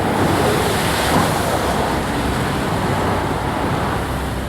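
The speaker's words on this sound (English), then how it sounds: "20-foot waves and 60-knot winds are pounding the Francis Anne." Storm waves pound the swordfishing boat Francis Anne in 20-foot seas and 60-knot winds, a loud, continuous roar of surf and howling wind buffeting the microphone, with no talking.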